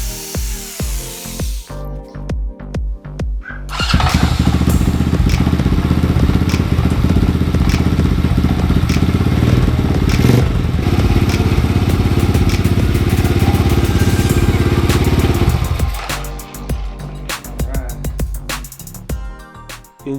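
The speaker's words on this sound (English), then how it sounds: "Engine fired right up and seems to be working just fine." A small golf cart engine sputters, catches, and roars steadily for about twelve seconds before cutting off, with clanking and rattling before and after.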